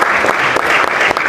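Loud, sustained applause from a crowd at a cargo truckers' union general assembly, dense clapping filling the whole moment with no break.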